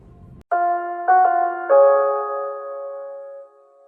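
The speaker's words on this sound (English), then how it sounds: "Asylum Intercom Chime." The intercom chime from the Batman Arkham asylum plays three clear, bell-like tones in quick succession, the last ringing out and fading slowly, alone after a short burst of low background noise.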